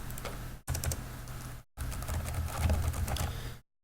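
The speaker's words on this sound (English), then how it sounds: "you just start typing where it is" Fingers type steadily on a computer keyboard in a rapid, close stream of clicks, split by two brief silent breaks, with no talking.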